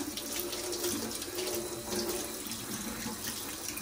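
Running water rinses cleaned motor parts from a Singer 431 G Convertible sewing machine, a steady hissing stream splashing close by without pause, with no talking.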